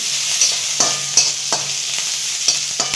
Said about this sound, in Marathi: थोड़ा सा तेल टाकून घ्यायचं कांदा पडदिशीन चांगला भाजतो आपण